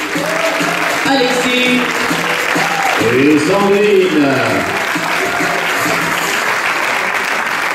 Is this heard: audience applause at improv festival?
yes